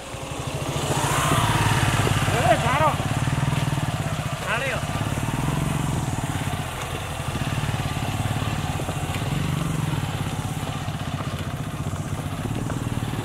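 A motorcycle engine labors steadily climbing a steep, unpaved mountain road, a continuous straining drone with occasional clatter and faint voices.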